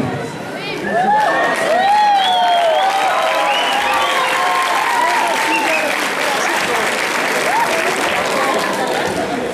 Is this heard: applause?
yes